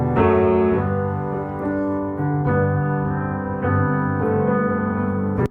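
Sustained piano chords ring over a soft, wide pad-like layer, the sound full and continuous with gentle chord changes every second or so.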